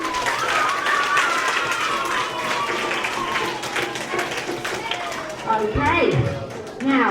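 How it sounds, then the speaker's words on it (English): Students at a school reading contest applaud together, a dense wash of clapping and crowd chatter that holds steady throughout and swells louder near the end. "I want you all to give yourselves a big round of applause"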